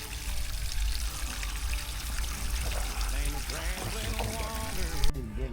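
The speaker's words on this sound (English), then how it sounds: "Nothing like wasting about 35, 40 gallons of water" Water gushes and splashes steadily out of a pipe, flooding a chicken coop, a continuous pouring rush with a brief bump near the end.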